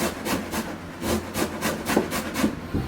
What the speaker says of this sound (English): I find that it's a lot easier to control how much I actually have by grating it straight into a second bowl